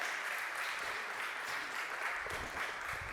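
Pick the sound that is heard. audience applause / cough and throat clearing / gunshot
audience applause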